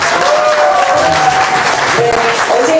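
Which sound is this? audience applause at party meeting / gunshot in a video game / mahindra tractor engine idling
audience applause at party meeting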